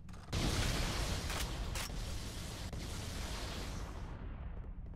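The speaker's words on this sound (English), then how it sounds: "let's look at the explosions" Continuous rumbling explosions from the Halo CE Anniversary video game, a dense, loud roar of blasts and debris that holds steady for about four seconds before thinning out, with no talking.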